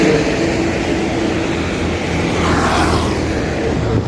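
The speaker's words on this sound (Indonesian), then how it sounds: "Kencang sekali itu mobil." A car speeds past on a busy roadside in Widang, heard as a loud, continuous rushing roar of traffic that swells slightly toward the end and never drops away.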